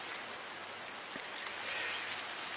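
Rain falls on a garden with a papaya tree, a faint, even hiss of drops that holds steady without pause or talk.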